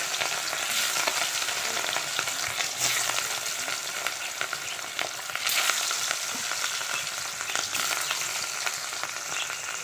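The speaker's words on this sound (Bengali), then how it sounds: "তেল গরম হয়ে গেছে মাছে হলুদ নুন মাখিয়ে নিয়েছি দিয়ে দেবো" Fish rubbed with turmeric and salt fries in hot oil, giving a steady, dense crackling sizzle that stays loud and close throughout, with occasional sharper spits and no voices.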